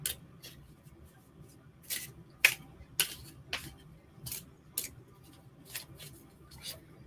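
Tarot cards being shuffled up close in a series of brisk, papery riffles and taps, irregularly spaced over a quiet room.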